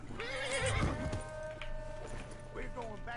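A video game horse whinnies in a short wavering neigh, with a few hoof thuds close by and a faint background hum under it.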